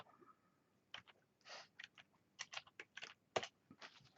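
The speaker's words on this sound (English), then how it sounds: "got a new keyboard" Clicky keystrokes on a brand-new computer keyboard, typed in short irregular bursts of taps close to the mic in a quiet room, with brief pauses between clusters.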